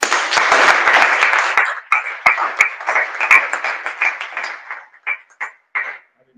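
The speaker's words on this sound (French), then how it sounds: "Acclame pour le Seigneur." Church congregation clapping for the Lord, a loud dense burst of applause that thins out into scattered claps over several seconds.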